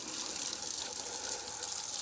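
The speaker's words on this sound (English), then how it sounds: "We don't need to get aggressive with the water pressure." Low-pressure water spray rinsing degreaser off a Mercedes OM617 diesel engine in a W126 300SD, a steady hissing rush with no breaks, fairly soft and close.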